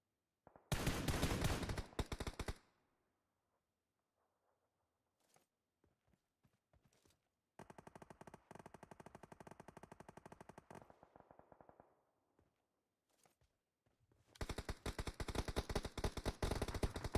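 Bursts of rapid automatic gunfire from a competitive shooter match, loud and close, come in three long volleys with near silence and scattered single shots between them.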